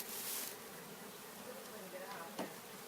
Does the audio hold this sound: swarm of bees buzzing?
yes